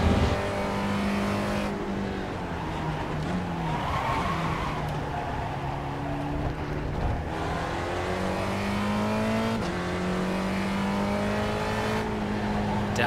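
Spec Ford race car engine at Laguna Seca, heard from inside the car, drones steadily and loudly, with pitch rising and falling as it shifts through the gears in several distinct steps.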